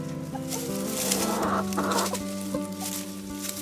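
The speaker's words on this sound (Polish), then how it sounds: "Kury o poranku." Green-legged hens cluck and chatter inside a coop in the morning, with a rooster among them; a steady, close flock of overlapping clucks and calls with no talking.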